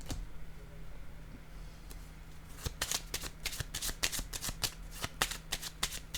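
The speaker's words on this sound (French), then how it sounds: "Je vais piger une autre carte." Playing cards shuffled and drawn in a card-reading session, starting with a soft rustle, then a fast run of crisp riffling snaps from about the third second onward, close and fairly loud over a steady low hum.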